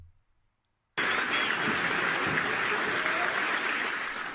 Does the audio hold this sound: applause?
yes